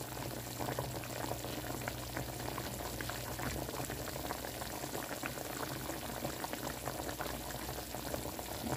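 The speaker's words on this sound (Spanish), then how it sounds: "estoy cocinando la carne" Beef for tacos cooks in a pan with a dense, bubbling hiss that stays even and fairly faint throughout, with no voices over it.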